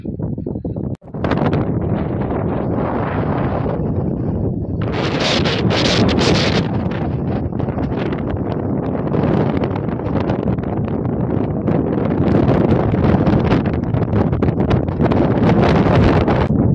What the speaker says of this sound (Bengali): হাওয়া মানে মারাত্মক হাওয়া, মানে হাওয়াতে কান ফান সব ব্যথা করছে ঠান্ডায়